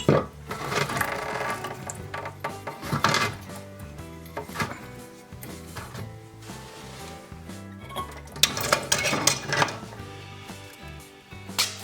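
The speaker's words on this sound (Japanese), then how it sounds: "このパイプレンチでこのパイプを外していきます。" A pipe wrench turns and loosens a toilet supply pipe during a toilet replacement in an old house, giving irregular metallic clanks, scrapes and ratcheting clicks in uneven bursts, close and fairly loud.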